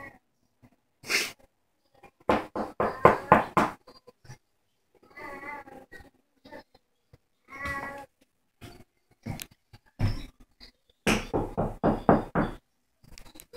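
Knuckles rap on a door in a quick series of sharp knocks, with another burst later, clear and close in a quiet room; a cat meows in between.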